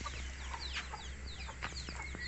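Native chickens cluck and chatter in a close, busy flock, with overlapping short calls over outdoor background noise.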